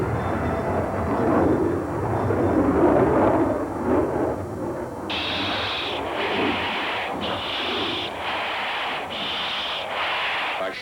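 A fighter jet flies one-on-one dogfight training missions, a heavy continuous engine roar swelling and then settling, later joined by rhythmic pulsing bursts of higher hiss, loud and steady throughout.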